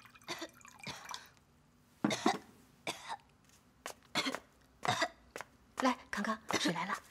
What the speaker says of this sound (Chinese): 怎么又咳嗽了？